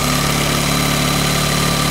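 A Yamaha 9.9 outboard motor idles steadily while warming up before an oil change, its carburetor in need of cleaning; the engine drones loud and close in an even, continuous run with no voices over it.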